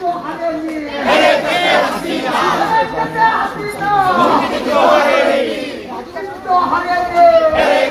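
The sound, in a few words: protest crowd chanting slogans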